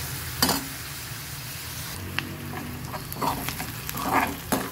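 Chopped onion frying in a pan for a bottle gourd (dudhi) vegetable dish, a low steady sizzle broken by a few soft scraping stirs and light clinks, with no talking.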